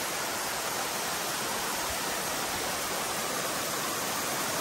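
Umantad Falls waterfall in Candijay, Bohol, roaring as a dense, steady broadband rush of falling water heard up close, constant and unbroken throughout with no talking.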